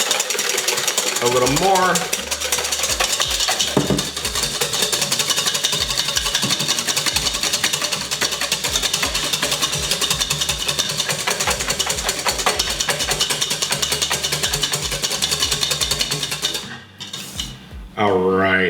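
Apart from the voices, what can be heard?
whisking egg whites with sugar for beignet batter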